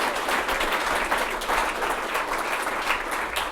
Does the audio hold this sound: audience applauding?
yes